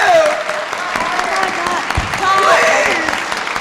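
A theater audience at a live comedy show claps steadily for several seconds, a dense, continuous patter of many hands with a performer's voice rising over it.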